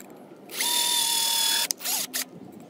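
A power drill whirs steadily for about a second, then stops, followed by a couple of short bursts of drilling through joist tape on decking.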